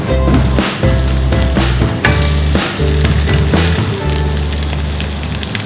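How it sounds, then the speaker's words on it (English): Onions browning in a pan for lal maas sizzle loudly and continuously while being stirred, with crackling pops and occasional spoon scrapes up close, no talk over it. "Just keep stirring"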